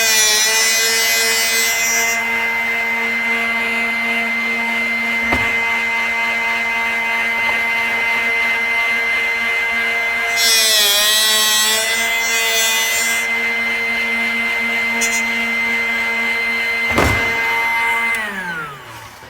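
Drill Doctor 500X bit sharpener grinding a drill bit, a steady motor whine with short bursts of harsher grinding as the bit is worked on each side, continuous and close.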